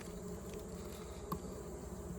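Italian honey bees swarm around exposed honeycomb during a honey harvest, filling the air with a steady, close, continuous buzzing and no voices.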